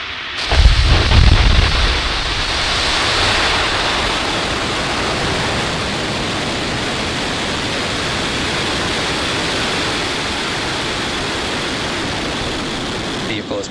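Falcon 9 rocket lifting off with Starlink satellites, a sustained broadband roar with a deep rumble at the start, steady and loud throughout like rushing water, while a voice talks faintly underneath.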